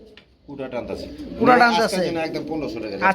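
Pigeons coo at a Bengali market stall selling pigeon pairs, low throaty calls that carry close by under steady overlapping talk from people bargaining.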